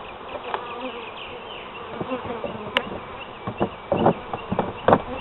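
Honey bees buzz in a continuous close drone at an open hive during an inspection, with frame and equipment knocks and rustles breaking through now and then.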